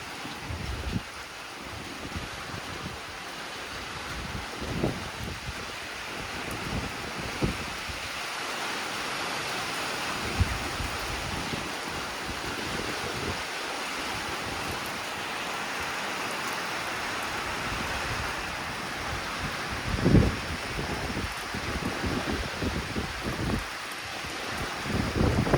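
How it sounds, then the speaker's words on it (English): Steady rain at a lake during a mild thunderstorm hisses as a broad wash of noise, with gusts of wind buffeting the microphone and occasional louder bursts. "Here comes the rain again."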